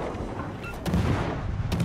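Naval gunfire from World of Warships, with a team's guns firing on a target during a Pan-European T6 Skåne destroyer match, rumbling as dense low booms that swell louder in the second half.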